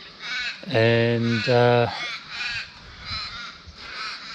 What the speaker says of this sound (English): excuse the crows.